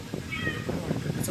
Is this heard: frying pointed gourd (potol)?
no